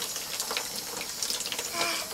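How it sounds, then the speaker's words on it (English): Water running from a garden hose outdoors, a steady close hiss with faint splashing and no talking. "you don't have to drink out of the hose"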